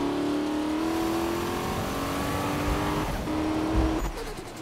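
A loud American muscle car in Need for Speed (2015) revs with a steady high engine whine that climbs, dips briefly and picks up again, ending with a short burst of tire squeal.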